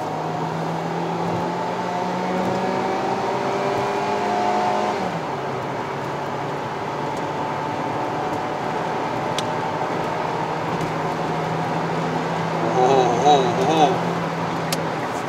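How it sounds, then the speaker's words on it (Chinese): A 2015 Kia Rio facelift with the 1.4 engine kicks down and accelerates on a Malaysian road, its engine drone rising steadily inside the cabin while people talk over it. "他现在开车，中途加速 kick down"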